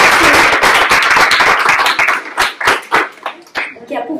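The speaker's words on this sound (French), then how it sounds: "Et on l'applaudit" An audience applauds Monsieur Fange Dubois at a ceremony, starting as loud dense clapping, then thinning into scattered claps that fade out, with a voice speaking beneath.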